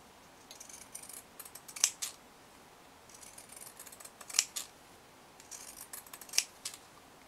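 Pinking shears snip along fabric edges while a child's face mask is made: three quiet runs of crisp, close cutting crunches, each ending in a sharper snip, with soft pauses between.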